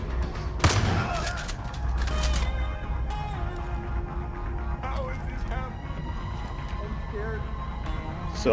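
Shotgun blasts in Far Cry 5, a loud sharp boom near the start followed by a second burst, then a lingering rumble and scattered mechanical clatter of combat.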